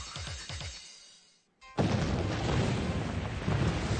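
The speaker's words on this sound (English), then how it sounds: "Explosions." A sudden, loud explosion bursts in after a brief pause following a fading low rumble, then spreads into a sustained, roaring wash of broadband noise.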